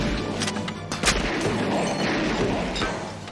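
Gunfire rings out in a 1991 comedy film scene, loud sharp bangs and cracks over a dense, noisy soundtrack, with several distinct hits in quick succession.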